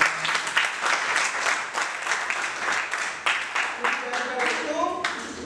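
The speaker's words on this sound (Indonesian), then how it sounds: "Tepuk tangan buat kelas." A school class claps and applauds steadily for several seconds, a dense burst of many hands, with a voice starting to speak near the end.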